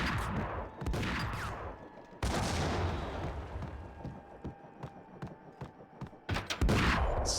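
Shotgun blasts in the video game Max Payne: repeated loud booming shots with rolling echoes, clustered in bursts with a heavy burst near the end.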